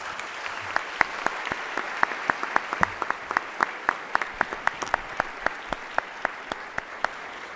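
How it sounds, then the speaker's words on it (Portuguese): Steady applause at an academic event hosting former mayor Fernando Haddad, with sharp, regularly spaced individual claps standing out in front of the broader clapping at a fairly even rhythm. "sempre vale aí pedir mais uma salva de palmas"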